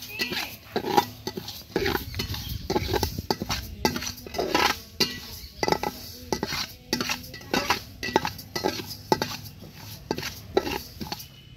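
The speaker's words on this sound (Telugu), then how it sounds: "అందులో ఉన్న గింజలు అవి కూడా లైట్గా వేపుకోవాలండి" Dried red chilli seeds roast in a pan for homemade chilli powder, stirred with a utensil that scrapes and clinks against the metal in repeated close, irregular strokes, with faint background talk at times.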